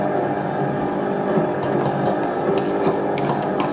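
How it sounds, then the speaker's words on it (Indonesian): A Mito MX100 electric hand mixer runs steadily while mixing brownie batter with cocoa powder, a continuous close motor whir with faint beater clicks against the bowl. "Jadi kalau kita menggunakan mixer Mito MX100 seperti ini, tinggal masukin aja barangnya ya."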